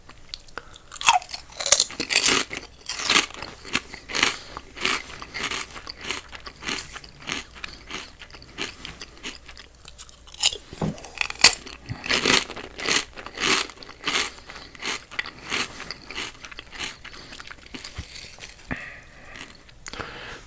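Close, crisp crunching as crunchy baked chips, less oily than kettle chips, are bitten and chewed in a quiet whispered mukbang setting, with steady repeated bites and chewing textures over about twenty seconds.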